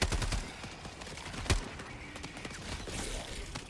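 Rapid gunfire in the video game Starfield, a dense spray of shots at close range with one sharper loud crack midway, ringing on under scattered background noise.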